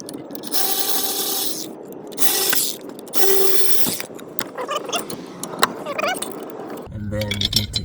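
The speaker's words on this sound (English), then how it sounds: "you can use an Allen key, but I'm using a T45 torque bit right there." A ratchet with a T45 torque bit turns out the brake caliper bolts on a Ford Focus, giving several loud bursts of fast clicking and grinding mixed with scraping metal and some speech.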